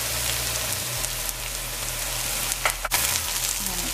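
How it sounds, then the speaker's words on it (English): Karela (bitter melon) frying with Guyanese black shrimps, seasoned with fish seasoning, black pepper and salt, in a pan: a loud, steady close sizzle throughout, with a brief clatter of stirring near the end. "And we'll let this continue to fry."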